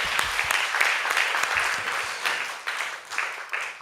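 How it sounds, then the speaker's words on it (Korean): Church congregation clapping together during a Friday prayer service, a dense sustained round of applause with rhythmic accents and fading slightly toward the end. "우리 하나님께 영광의 박수 올리세요"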